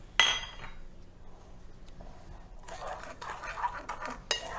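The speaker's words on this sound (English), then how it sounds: "now give that a little stir" Banana pudding mixture stirred in a bowl, starting with a clink of a utensil on the rim, then quiet, then a burst of close scraping and tapping strokes toward the end.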